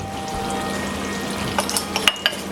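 Baking soda stirred into a hot sugar mixture for sea foam candy, with steady fizzing and bubbling hiss that grows busier toward the end, punctuated by a few sharp clinks of a utensil against the pot.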